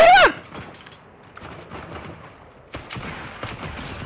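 Shotgun fire in Fortnite: one sharp loud blast at the start, then quieter clattering game sounds and a softer second shot later.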